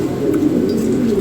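A frill pigeon coos in a low, throaty, continuous burble, close and fairly loud, with faint background chatter of other birds.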